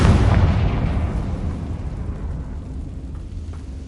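A blasting spell explosion in the video game Hogwarts Legacy lands as one loud, deep boom at the start, then a long rumbling decay fades away with no voices over it.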